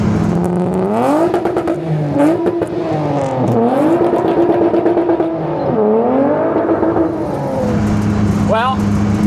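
A Honda Civic drag car fitted with a J37 engine revs hard and runs a little rough, its loud engine note rising and falling in repeated surges close by, with a voice speaking briefly near the end.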